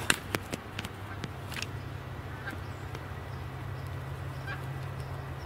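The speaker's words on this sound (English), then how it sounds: "I do see some more geese." Geese honk now and then at a distance over a steady low outdoor rumble, faint short calls scattered through the stretch with no one talking.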